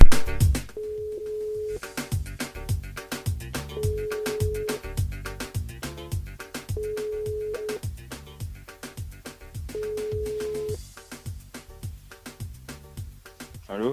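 A telephone call rings out to a radio contestant over the studio line, four repeated ringing tones spaced evenly apart, with rhythmic music pulsing underneath throughout.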